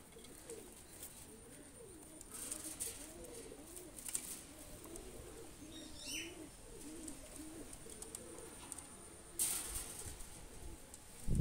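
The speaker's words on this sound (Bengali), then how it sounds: "খুবই সুন্দর স্ট্যান্ডিং কোয়ালিটির দুইটা কবুতর" Pigeons (Pakistani breed, Alipi-beaked) cooing softly and repeatedly at close range, with low throaty coos running steadily throughout and a few brighter chirps and rustles on top.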